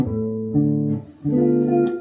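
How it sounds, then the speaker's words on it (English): Chords built from the whole tone scale played in two clear held blocks separated by a brief dip, close and moderately loud with no speech. "Whole tone scale has that too."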